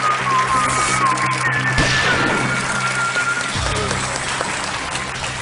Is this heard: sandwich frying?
no